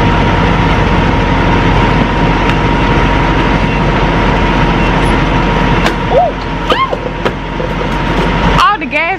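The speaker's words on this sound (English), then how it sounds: "this truck loud, boy." Loud, steady engine roar inside a truck fills the whole stretch, with people talking over it and a few brief higher vocal sounds near the end.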